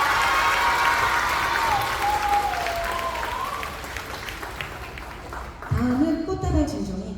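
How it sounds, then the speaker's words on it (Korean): Applause from a school assembly audience honoring a teacher at a girls' middle school ceremony, steady and full throughout, with a voice speaking over the clapping toward the end. "큰 박수를 보내주시기 바랍니다"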